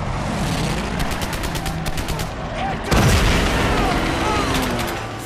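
Gunfire and explosions from the World War II game Medal of Honor Pacific Assault, with rapid bursts of shots, a heavy blast midway and rumbling battle noise, and voices shouting over it.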